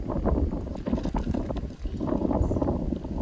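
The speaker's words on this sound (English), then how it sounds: "it's a little windy" Gusty wind buffets the microphone with a constant rumbling roar, rising and falling over a few seconds.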